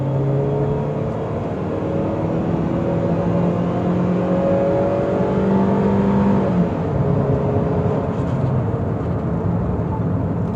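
A 2017 Toyota Rush TRD Ultimo engine revs up hard on kick-down, a steady rising drone heard from inside the cabin that climbs, drops at a gear change and climbs again.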